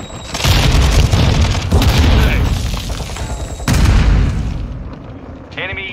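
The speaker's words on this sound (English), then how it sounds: "Throwing flash grenade." Flash grenades go off in Call of Duty: Modern Warfare II Ground War multiplayer, with two loud, booming blasts amid dense battle noise and a game voice over the top.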